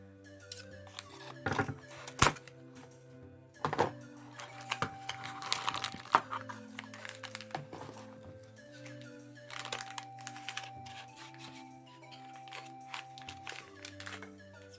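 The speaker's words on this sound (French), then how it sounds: "je vais me battre avec l'emballage maintenant" Plastic product packaging for an Arc Bahamut toy is wrestled open: irregular crinkling, sharp cracks and tearing bursts, close and fairly quiet, with pauses between handling noises.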